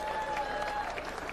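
Boxing crowd at a Sharmba Mitchell vs Vince Phillips fight breaking into brief applause and cheering, heard faintly from a distance beneath a commentator's voice.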